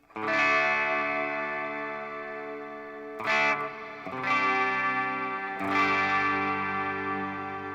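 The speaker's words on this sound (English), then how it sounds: "So we go into the reverb. Let's go into my favorite one, which is Shimmer." Sustained guitar chords through a budget amp modeler's shimmer reverb ring out with an octave-tinged tail, four strums each swelling and lingering in a bright, washy haze.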